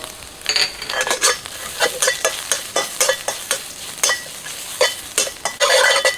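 Stir-frying in a hot wok for Thai rice porridge (khao tom kui), with a steady sizzle broken by a quick series of sharp metallic scrapes and clanks from the spatula, close and loud, with no talking.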